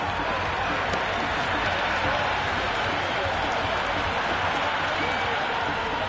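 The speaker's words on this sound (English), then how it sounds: "the crowd have joined the party. It's pretty noisy in the ground." Dense crowd roar fills a cricket ground during a women's T20 league match between Mumbai Indians and Delhi Capitals, a steady, loud wash of cheering with scattered clapping and no lulls throughout.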